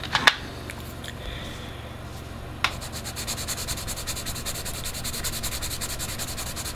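Derwent graphite pencil strokes rubbing across paper, a steady dry scratchy shading texture with a couple of sharp taps from the pencil touching down, close and fairly quiet with no talking.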